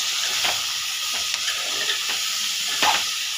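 Ridge gourd pieces fry in hot oil and are stirred, a steady close sizzle and hiss with a few scraping stirs of the spoon along the pan, no voices.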